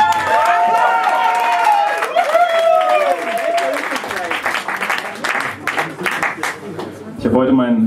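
An audience applauds at a German songwriter competition show, dense clapping with some cheering rising over a voice speaking, then fading into scattered claps as talking resumes.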